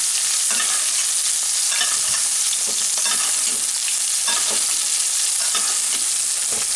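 Steak searing in a pan of garlic and oregano flavored oil, a loud continuous sizzle and crackle with bursts of bubbling and spoon basting scrapes, close up and no voices.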